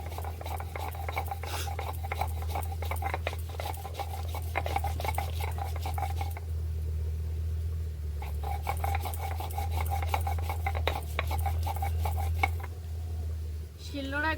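Whole garam masala, crushed and soaked in a little water, being ground on a shil-nora grinding stone: steady rhythmic rasping strokes of stone on stone, close and continuous, with a brief pause midway.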